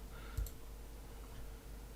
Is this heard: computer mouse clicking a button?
yes